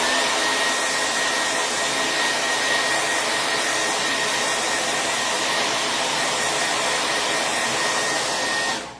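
A hair dryer blows steadily on a homemade DIY shirt, a constant loud whooshing hiss with a thin whine running through it for about nine seconds before cutting off.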